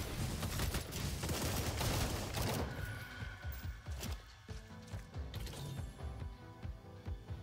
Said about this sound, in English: See the shards firing off of me.